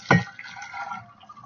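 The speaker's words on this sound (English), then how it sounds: "I've got my water boiling, and I'm going to put it in my pot here" Boiling water is poured from a kettle into a pot for the bottom of an oven while baking bread: one brief splashing gush at the start, then a softer trickling wash that fades.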